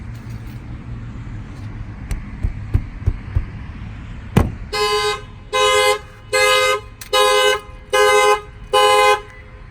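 A few light knocks strike a 2018 Toyota 4Runner, triggering its shock sensor car alarm, which honks the horn in six evenly spaced, loud blasts.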